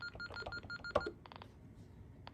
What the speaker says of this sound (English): this will sound the pulses even if not connected to the line.